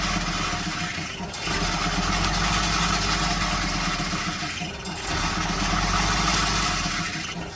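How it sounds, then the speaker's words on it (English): The engine of a 1991 Holiday Rambler Limited 40-foot motorhome runs loud and close with a steady rumble, dipping briefly twice as if starved of fuel before catching again and surging back. "It runs like normal, and then it like runs out of fuel and suddenly grabs again."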